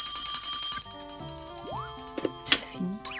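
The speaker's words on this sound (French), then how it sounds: "j'ai ma cloche que je sonne quand il doit monter au repas et quand il doit faire ses devoirs" A hand bell, rung at home to call a child up to meals, gives a bright, sustained ring for under a second, then fades as a voice speaks.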